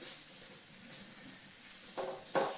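Spices sizzle steadily in olive oil for a mushroom masala, a continuous close frying hiss with a couple of louder spits of sizzle near the end.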